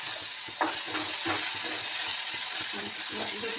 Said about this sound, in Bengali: পেঁয়াজ টমেটো শুকনো লঙ্কা ভালোভাবে ভাজা ভাজা হয়ে গেছে